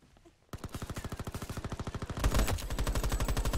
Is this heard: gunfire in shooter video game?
yes